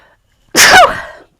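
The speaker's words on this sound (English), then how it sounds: "I'm going to sneeze." A single loud, close sneeze bursts out with a sharp onset and trails off over about half a second, heard on its own with no talk around it.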